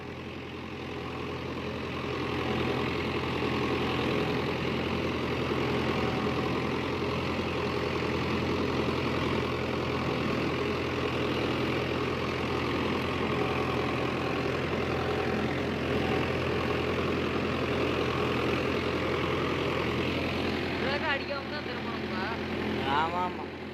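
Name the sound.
Mahindra Yuvo Tech+ 585 4WD tractor engine pulling cultivator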